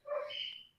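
Dogs give a single short bark or yelp, faint and somewhat distant, lasting under a second with nothing else around it.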